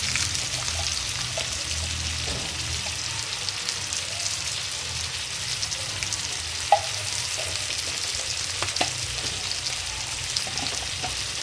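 Andhra-style brinjal curry fries in oil with a steady, moderately soft crackle and sizzle, dotted with occasional small pops and spoon clicks throughout.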